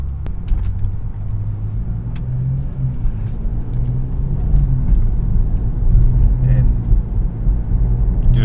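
A BMW car shifts into drive and pulls away, its engine a steady low rumble that builds slightly as it gets moving, heard up close from inside the car.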